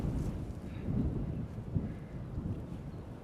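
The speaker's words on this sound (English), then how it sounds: "Ooh, here comes the wind and the clouds." Wind gusts across a remote mountain peak campsite in Hawaii, rumbling and buffeting the microphone in a low, fluctuating roar that stays fairly soft throughout.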